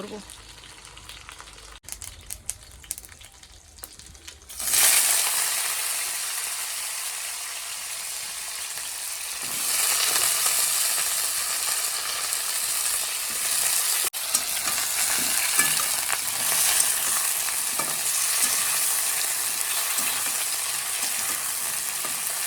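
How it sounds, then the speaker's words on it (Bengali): After a few seconds of quiet kitchen clatter, vegetables hit a hot kadai and burst into a loud, sustained sizzle that keeps frying steadily, with occasional stirring. "এই সাইডে যে কড়াই গরম হয়ে গেছে এটার মধ্যে এখন সবজিগুলো দিয়ে দেবো"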